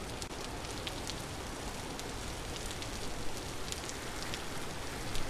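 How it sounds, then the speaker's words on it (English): Steady, even rain from the video game Vintage Story, a constant hiss of drops on surfaces with faint scattered crackles, unbroken and moderately quiet with no voices. "Maybe I need to turn the rain sound effects down given this is where we're living."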